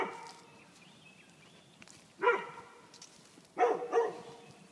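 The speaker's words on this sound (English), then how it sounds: "the dog's going to be in the way, barking a bit" Dog barking outdoors on a rural property, two separate bursts of barking, the second a quick double bark, fairly close over a quiet background.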